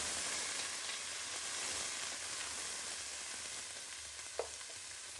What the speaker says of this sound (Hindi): मैंने गार्लिक और जिंजर के डाल के अब इनको भूनना शुरू किया।